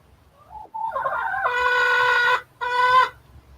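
A chicken close by makes a few soft rising clucks that build into two loud, harsh squawks separated by a short pause.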